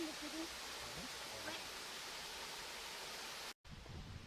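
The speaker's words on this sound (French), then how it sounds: "à la cascade du Drochon." The Drochon cascade near a river in Houlgate, Calvados pours as a steady broadband rush, with a faint voice briefly at the start before the sound cuts out for an instant.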